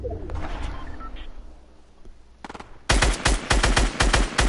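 Rapid automatic gunfire from the Fortnite video game, a loud, close burst of quick repeated shots, follows a few seconds of quieter game ambience with bird coos.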